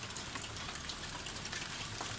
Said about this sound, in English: That is some hail now.